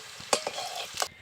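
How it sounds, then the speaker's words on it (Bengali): Potato pieces frying in oil until reddish-brown, a soft steady sizzle with a couple of sharp stirring scrapes and clinks from a spatula, close and fairly quiet, with no talking. "আলুটাকে খুব সুন্দর করে লাল লাল করে ভেজে নিয়েছি"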